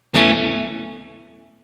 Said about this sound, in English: in a decay time of 2 seconds, I know that when I get my reverb activated, it's going to take 2 seconds to finally die out and decay